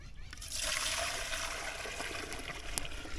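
Water splashes and sloshes steadily for a few seconds while a bucket is rinsed outdoors in a village. The sound is close and fairly loud and carries a gurgling, trickling quality.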